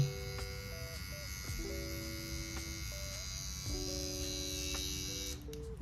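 A small Babyliss Pro Metal FX electric hair trimmer runs continuously with a steady buzzing hum, its pitch shifting slightly now and then, close and fairly quiet.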